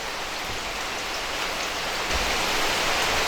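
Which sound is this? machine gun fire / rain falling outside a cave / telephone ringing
rain falling outside a cave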